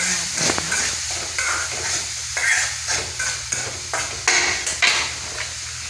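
Green chillies fry in a pan with a bright, steady sizzle, broken up by a series of spatula scrapes and light metallic taps against the pan, close and fairly loud.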